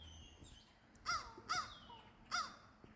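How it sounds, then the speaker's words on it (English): Three harsh, cawing bird calls ring out in a loose series, moderately distant over quiet outdoor background. "I don't know what kind of bird that is."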